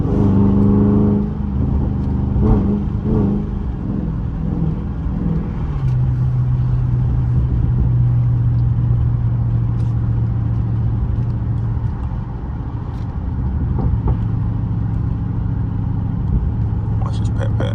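A Dodge Charger Daytona 392 V8 roars loudly and continuously from inside the cabin on a backroad drive, with a steady deep drone that rises in pitch under acceleration.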